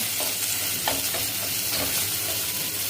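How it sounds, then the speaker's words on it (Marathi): Spinach curry ingredients with masala and salt are stirred in a hot pan, a steady sizzle with scraping spoon strokes at an even rhythm, close and continuous with no talking. "सर्व साहित्य एकसारखं करून घ्यायचं आहे."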